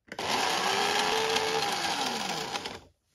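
A kitchen chopper grinds allspice berries and dried ancho chili, a steady loud whirring motor buzz that runs for about three seconds, then cuts off abruptly.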